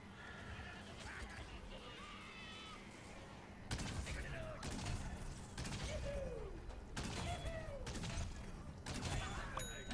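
Several heavy booming cannon blasts in Plants vs. Zombies: Garden Warfare 2 go off at irregular intervals over busy game noise, each a loud sharp burst that quickly fades.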